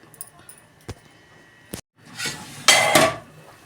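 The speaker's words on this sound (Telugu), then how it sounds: "మూత పెట్టేస్తాను" Metal lid set onto a pot of cooking lentil rasam, a few light clinks followed by a louder clattering settle of metal on metal, close by.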